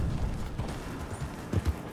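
Horse hooves clip-clopping in the Red Dead Redemption 2 video game, a rhythmic run of low thudding hoof beats on the ground, moderately loud and close, with a few heavier strikes near the end.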